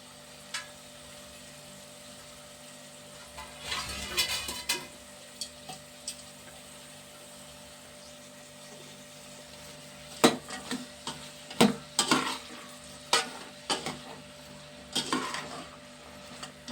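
Onion pieces sizzle quietly in a hot pan of curry at home, with soft scattered clicks and scrapes as a spoon stirs them, coming in bursts around the middle and toward the end.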